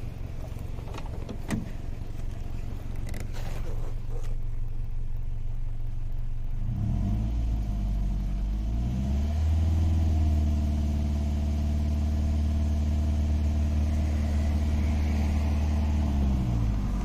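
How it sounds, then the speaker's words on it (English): A car engine idles, then revs up and holds at raised RPM during a battery load test, rising into a steady droning hum heard close with no talking. "Now let me raise the RPM."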